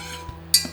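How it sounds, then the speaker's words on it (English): A bar spoon stirs cocktail ingredients in a pot on a burner, giving two quick, bright metallic clinks against the rim over a low steady hum. "give it a little stir"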